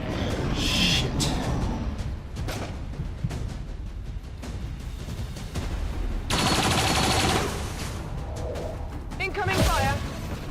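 Gunfire in XCOM 2, repeated loud bursts and volleys of shots spread across the stretch, with talk in between.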